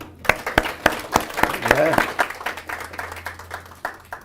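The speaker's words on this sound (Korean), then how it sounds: "박수 한번 하겠습니다." A church congregation claps for the choir and worship leader, a ragged run of distinct hand claps that speeds up and then thins out, with a voice speaking briefly over it.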